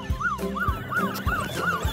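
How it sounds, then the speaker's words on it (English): A toy police siren wails in quick repeating rising-and-falling whoops, about five cycles, with low thumps underneath, close and fairly loud. "Turn on the lights and siren"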